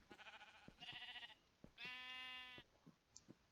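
Sheep bleating in modded Minecraft: a few close, clear, wavering bleats in quick succession, with quiet gaps between them.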